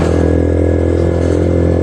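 Motorcycles and cars pass through night traffic in Islamabad, a dense and loud steady engine drone and road roar that runs without a break.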